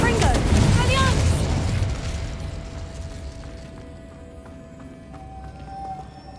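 Spells explode in a Harry Potter video game, a loud burst of crackling blasts that fades into a rumbling tail and a low hum, with a voice calling out spell names over the opening.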